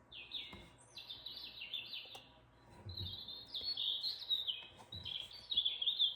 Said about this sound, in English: Look at all the tweeting birds.